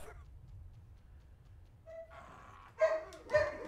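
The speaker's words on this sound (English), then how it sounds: "Oh, dogs are going crazy." Dogs bark in the video game Asterix & Obelix: Kick Buttix, two or three short sharp yelps near the end after a quiet stretch of low rumble, with a faint game cue before them.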